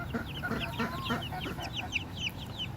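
Several Saphire Gem chickens cluck and chatter close by in quick, overlapping bursts over a steady outdoor background.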